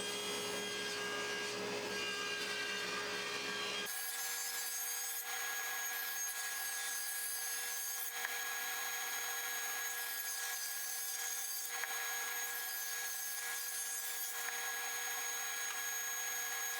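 Wood boards being resawn on a power saw give a loud, steady rasping cut that runs continuously throughout, its tone shifting abruptly early on and then holding as a bright, harsh grind with no talking.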